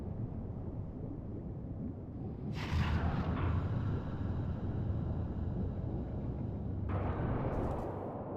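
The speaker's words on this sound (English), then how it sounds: "So that's the cause of the giant explosion" A giant explosion in the video game Ghost Trick: Phantom Detective, aboard a vessel in the deep sea: a sustained low, rumbling roar lasting several seconds, with brighter hissing swells rising and falling over it.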